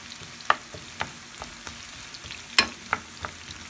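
Onion fries quietly in a pan, a soft low sizzle punctuated by a few sharp taps and scrapes of stirring, with no talking.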